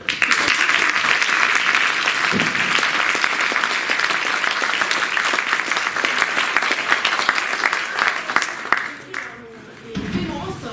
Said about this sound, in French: Les techniciens ce soir et qui ont accompagné la résidence, je voudrais qu'on les applaudisse.